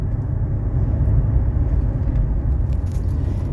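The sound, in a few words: 1991 Mercedes 300SE car driving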